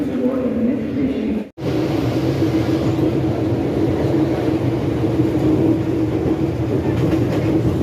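A Mumbai local commuter train rumbles along steadily, a continuous loud roar with faint rattling, briefly cut off by an edit midway.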